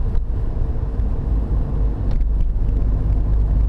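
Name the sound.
road traffic on a busy street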